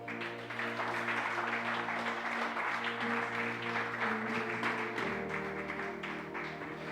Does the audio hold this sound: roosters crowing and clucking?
no